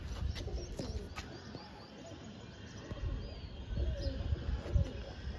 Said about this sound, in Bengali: খুব সুন্দর নর পায়রা